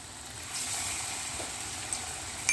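Mushroom meatballs fry in hot oil in a pan, giving a steady, close, even sizzle that holds throughout, with a couple of small pops and no voices.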